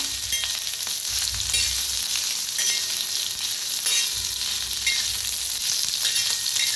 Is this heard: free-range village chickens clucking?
no